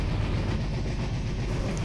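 The Puri–Shalimar Dhauli Express runs at high speed, near 130, heard from inside by a window seat: a dense, steady low roar of wheels and carriage with rhythmic rattling, continuous and close.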